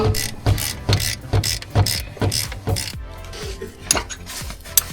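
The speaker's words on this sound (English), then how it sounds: "Then we're gonna release the tension on the belt using a 12mm socket." A ratchet with a 12mm socket releases the belt tensioner on a Mazda Miata (NA/NB), producing a rapid series of close, loud clicking ratchet strokes in steady rhythm, with a brief lull before a few more clicks near the end.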